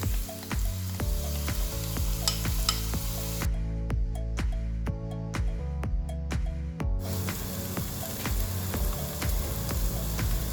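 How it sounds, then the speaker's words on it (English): Onion frying in olive oil over high heat, a loud continuous sizzle close by with repeated utensil clicks and stirring across the whole stretch. "I'm now going to add in my onion and fry it off."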